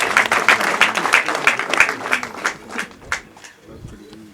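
A crowd at a family gathering in Bugesera, Rwanda, honoring a 110-year-old relative claps in a quick, loud, rhythmic burst that thins out and fades toward the end.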